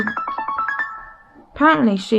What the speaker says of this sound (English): sorry, my phone I got a text message.